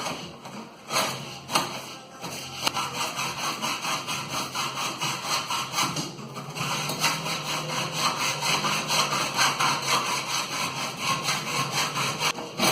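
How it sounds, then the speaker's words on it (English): A hacksaw cuts through painted metal with loud, steady back-and-forth rasping strokes that settle into a dense, continuous rhythm, close up and with no talking. "now that I'm actually cutting, it's going faster. It's going through the metal faster"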